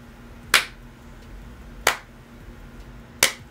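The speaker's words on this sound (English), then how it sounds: "I can clap." Three sharp, isolated hand claps, evenly spaced about a second and a half apart, used to sync camera audio, each crisp and close with a quick decay over a quiet room hum.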